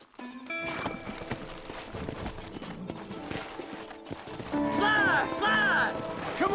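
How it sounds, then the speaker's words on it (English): Horses clip-clop and whinny in the Red Dead Redemption video game, hooves thudding in an irregular trot under a speaking voice, then a loud, close neigh rising near the end. "Horses are over here."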